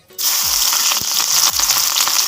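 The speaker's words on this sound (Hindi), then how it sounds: "प्याज मिर्ची और लहसुन इला में हाँ कढ़ाई में डालत हैं" Onion, chilli and garlic hit the hot oil in a kadhai over a wood-fired chulha and burst into a loud sizzle, with a couple of sharp metallic scrapes and knocks as the pan is stirred, no voices.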